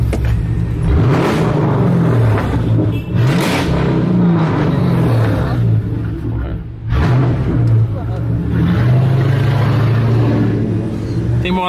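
A car engine revs loudly and steadily throughout, a low throaty roar with brief dips in throttle, while voices talk over it.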